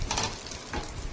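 Ranga lau (pumpkin) leaves coated in masoor dal batter frying in oil over medium heat, giving a steady close sizzle with brief bubbling bursts and no voices.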